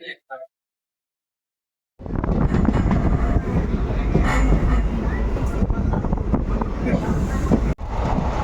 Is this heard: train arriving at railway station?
yes